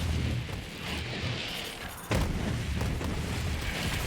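Grenade blast in Borderlands 3, a modded grenade that spawns extra projectiles: a dense, rumbling barrage of booms that fills the whole stretch, jumping to a sharper, louder burst about halfway through and then rolling on.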